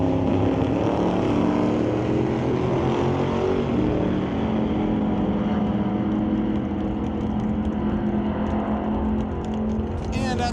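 Drag race at Mission Raceway Park between a Chevy II and an S10, engines roaring loud and sustained down the strip from a distance, with an announcer talking over the noise throughout.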